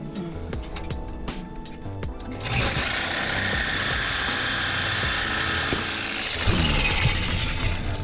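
A thin metal cutoff wheel slices through long steel U-bolts during an RV suspension lift, a loud, steady grinding whine that starts a couple of seconds in after quieter shop clatter and runs on without a break.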